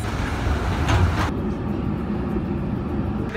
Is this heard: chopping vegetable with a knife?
no